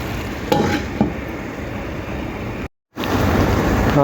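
Snake gourd and bitter gourd poriyal is stirred in a pan over a close, steady sizzle, with a few scraping knocks near the start and a short silent gap before the frying resumes.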